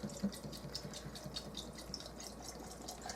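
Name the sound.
pouring sparkling mineral water into lemonade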